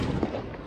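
Fourth of July fireworks burst in a dense, crackling rumble for under a second, with a sharp pop near the middle.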